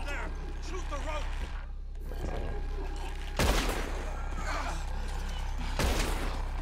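Gunfire in the Western game Red Dead Redemption 2, aimed at a rope, sounds as two loud, sharp shots amid ongoing talk and a low, constant background rumble.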